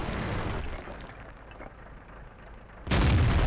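Tank cannon fire from a French AMX 50 100 heavy tank in World of Tanks, a single loud booming shot that bursts in near the end after a stretch of rumbling engine and battle noise.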